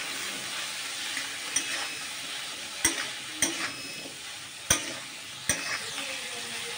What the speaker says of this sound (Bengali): এখন এগুলোকে আমি ভালো করে কষাবো